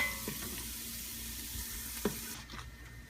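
Onions sizzle steadily over low heat in a pan, a soft continuous crackle with an occasional louder pop and a light stir near the end.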